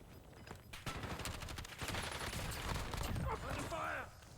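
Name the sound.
gunfire in video game Call of Duty Black Ops 6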